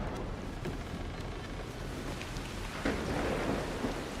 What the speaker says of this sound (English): We got some pouring rain.